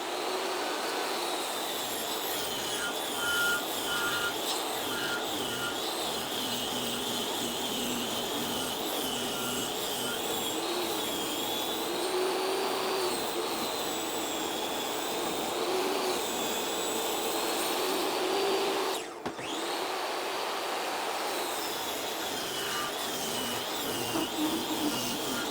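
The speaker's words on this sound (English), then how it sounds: "this one is gonna have to go through the table saw" A table saw runs steadily in a small wood shop, cutting a long wooden board with a loud, continuous whine. There is a brief dip near the end of the cut, and nobody speaks.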